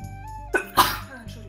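A single sharp sneeze bursts out near the mic amid Minecraft survival-game background music, a short intake followed by a louder broadband burst.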